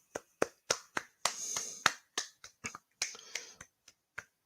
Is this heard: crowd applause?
yes